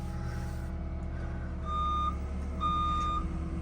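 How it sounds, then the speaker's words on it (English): An excavator's backup alarm gives two clear, high-pitched reversing beeps over a steady low engine rumble. "I gotta get rid of that backup alarm."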